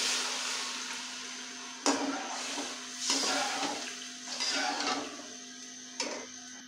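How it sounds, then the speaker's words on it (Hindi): Water poured from a glass into a pot of fried chickpeas for Hyderabadi kabuli chana pulao, a continuous splashing gush with a few louder surges, heard alone with no talk. "अब हम इसमें पानी डालेंगे।"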